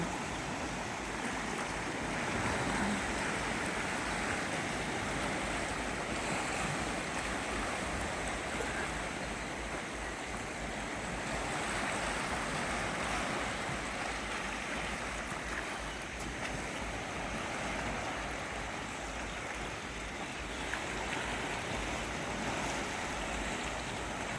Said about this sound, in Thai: นั่งฟัง เสียงคลื่นกระทบฝั่ง